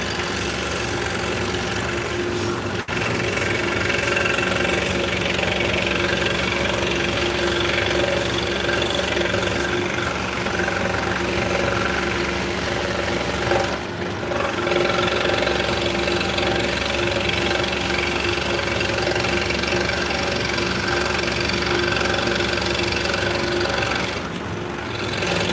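A scroll saw cuts through wood with a continuous, even mechanical buzz and rasp of its reciprocating blade, holding steady for the whole stretch with only brief dips, close and fairly loud, with no voices.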